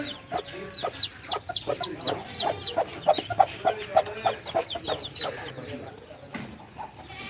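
A Turkish rooster and hen cluck steadily while their newly hatched chicks peep high and thin around them in a home garden. The sound is fairly quiet, and voices talk now and then.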